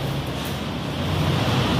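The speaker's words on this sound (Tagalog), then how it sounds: "Lakas ang ulan na, oh." Heavy rain pours down in a steady, dense roar at an outdoor combined activity for a post-Father's Day celebration, the broadband wash holding constant with no clear voices over it.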